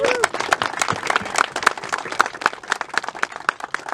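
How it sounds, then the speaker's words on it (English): Scattered applause from a small group at a Thanksgiving Day recognition gathering, individual claps distinct and fairly close, uneven in rhythm over a few seconds. "So let's give him a round of applause."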